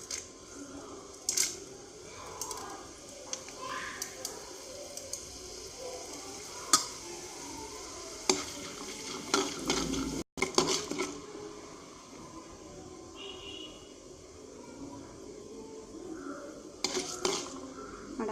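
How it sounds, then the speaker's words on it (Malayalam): Urad dal frying in hot Dalda vegetable fat, a steady low sizzle with occasional stirring scrapes and light clinks of a utensil against the pan. "ഡാൽഡ ചൂടായിട്ടുണ്ട്. നമുക്കതിലോട്ട് ഉഴുന്നിട്ട് കൊടുക്കാം."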